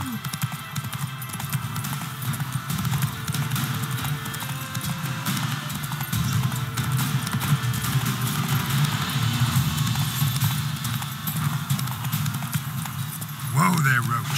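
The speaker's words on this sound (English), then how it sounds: "Whoa there, Roach" Geralt's horse Roach gallops in The Witcher 3 on PC, a continuous rapid clip-clop of hooves close by with rustling movement and a brief snort or whinny near the end.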